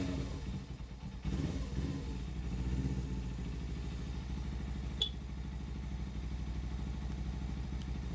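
A Suzuki GS 500 motorbike engine idles slowly and a little unevenly in a steady low rumble, close by, with a faint clatter partway through and no talk.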